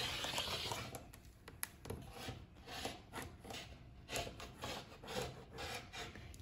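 Scissors or a rotary cutter working through layered quilt fabric scraps and thick seams, a steady run of close rasping, rubbing cuts with short pauses, no talking.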